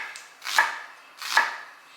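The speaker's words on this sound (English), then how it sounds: "too perfect with my chopping. So I'm doing about like half an onion" Two crisp knife chops through half an onion, spaced about three-quarters of a second apart, close and fairly loud with quiet pauses between strokes.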